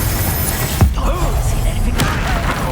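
A Confringo blasting spell goes off in the Hogwarts Legacy game, a single muffled boom with a short burst, followed by a second softer impact amid ongoing game ambience and faint voices.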